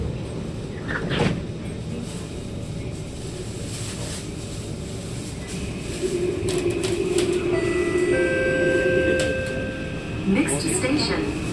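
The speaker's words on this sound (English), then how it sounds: "Doors are closing." Doors on an SMRT Kawasaki C151 train close with a series of warning tones and a sliding thud inside the carriage. An announcement voice is heard over the steady motor hum.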